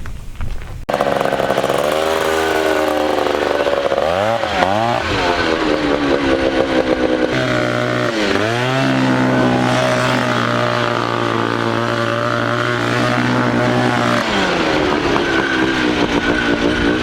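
A 1979 Honda Odyssey off-road buggy's engine revs loud and close, its pitch rising and falling as it drives, with sharp throttle blips partway through and a steady buzzing drone throughout.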